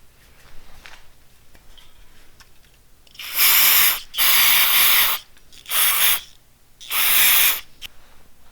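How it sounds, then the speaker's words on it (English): Loud brake cleaner spray and compressed air blasts hiss in four long bursts over a cylinder head, separated by short pauses, close to the listener with faint background noise. "spray it all off with some brake cleaner and then blow it off with the air"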